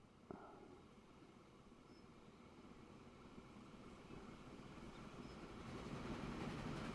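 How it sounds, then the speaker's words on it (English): A train pulls into Surabaya station in the Transport Fever 2 simulation game, a steady low rumble that grows gradually louder as it approaches, with no talking. "And here comes our train."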